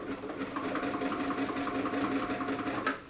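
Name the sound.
sewing machine stitching and back stitching fabric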